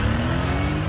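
A 2018 Mercedes-AMG GT Roadster's engine roars loudly and steadily at close range, a dense, continuous rumble with no break and no talk over it.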